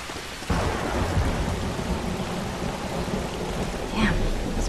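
Steady heavy rain from The Last of Us video game, with a broad rumble of thunder rolling in after a sudden swell near the start and another surge near the end, continuous and enveloping without talk.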